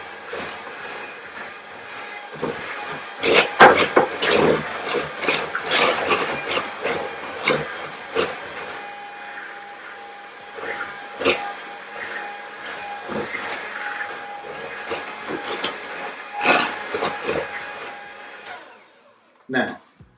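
An electric mixer runs at a higher speed, beating a dessert batter. A steady whirring motor hum sits under repeated scraping and knocking clatter against the bowl, continuing for about twenty seconds before it stops near the end.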